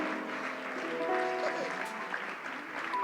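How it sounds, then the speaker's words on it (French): A church congregation applauds steadily, a dense wash of clapping with voices and cheers mixed in over a few seconds. "Ils viennent sous vos ovations très honorés"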